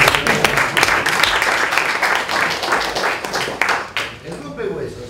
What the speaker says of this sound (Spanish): Un aplauso para compañeros.